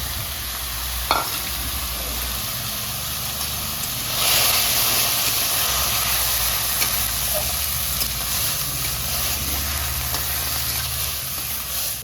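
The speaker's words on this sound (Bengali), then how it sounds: "মশলা আর চর্বি একসঙ্গে ভালো করে কষাবো" Spices and goat fat frying in a pan, a steady loud sizzle and hiss that runs unbroken, with a stir or clink early on and a brief surge of steam midway.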